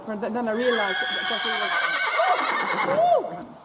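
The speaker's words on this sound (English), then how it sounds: "You can hear a mare in the background." A mare neighs in the background at a stud farm, a rising and falling whinny heard twice while a person talks over it up close.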